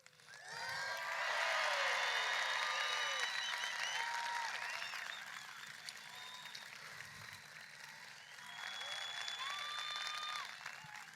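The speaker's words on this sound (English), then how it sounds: "how about a big round of applause to let them know how many people are here to see them" A large crowd at a political rally gives a big round of applause for arriving guests, continuous clapping mixed with shrill whistles and cheers that swell, dip slightly mid-way, then rise again.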